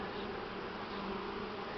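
Buckfast honey bees buzz in a dense, continuous drone at a spring hive with a honey super fitted, close and steady with no voices.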